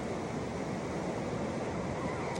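Steady rush of surf washing continuously, with broadband wind-like noise and no voices, a constant roar of waves on a shore.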